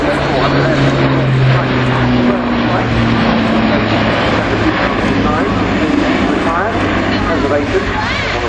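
An Airbus A400M military transport aircraft flies at an airshow at Fairford, its propeller turboprop drone loud and steady throughout, with a commentator's voice over the loudspeakers.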